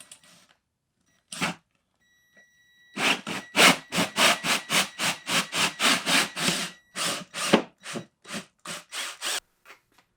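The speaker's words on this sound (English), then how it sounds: "Okay, I'm gonna go ahead and drill the hole." A drill bores a hole through a house wall for the drain line of a Mr Cool DIY 24K air conditioning unit, giving one short burst and then a rapid run of evenly spaced rasping bursts, close and loud.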